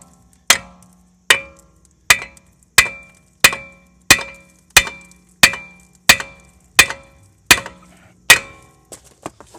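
A hammer strikes metal about a dozen times in an even rhythm, knocking brake pads off a BMW F10 brake caliper; each blow is sharp, close and ringing, with a faint steady hum underneath and no talking.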